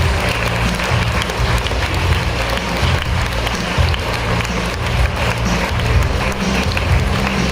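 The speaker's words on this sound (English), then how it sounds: "give a big round of applause to the costume committee" Audience applauding the costume and makeup committee at a class performance, a steady, dense wash of clapping with crowd noise throughout, fairly loud and continuous with no clear speech.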